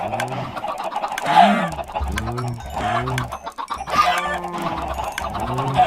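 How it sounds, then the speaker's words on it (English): Chickens in a modded Minecraft video game cluck repeatedly in loud, close, rhythmic bursts, several birds overlapping continuously with no talking. "Poor chickens."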